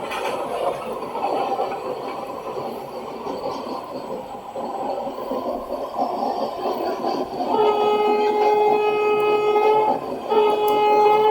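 Passenger train from Tambaram to Chengalpattu, hauled by a WAP-4 electric locomotive, running at speed: a constant rumbling, rattling rail roar heard from on board, with a loud, sustained multi-tone horn sounding twice near the end.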